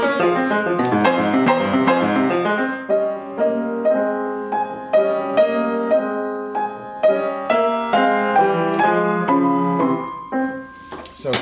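Beethoven on piano with both hands: energetic left-hand triplets under a right-hand melody, a lively passage played alone and fairly loud, with phrases rising and easing over about eleven seconds.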